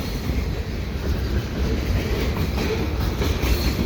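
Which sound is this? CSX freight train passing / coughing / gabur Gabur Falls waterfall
CSX freight train passing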